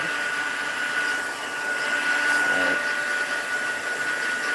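Handheld heat embossing tool for card-making crafts runs with a steady, loud whooshing blower hiss and a constant high whine, unbroken across the few seconds with no speech.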